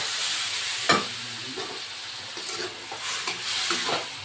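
Pointed gourd curry sizzles in a pan as a little water goes in and gets stirred, a close, steady frying hiss marked by a sharp spatter and several scraping strokes, with no one speaking.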